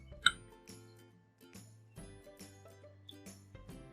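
A spoon clinks against a small dish while stirring a paste of a quarter tablespoon of baking powder, giving a few faint, scattered taps and scrapes.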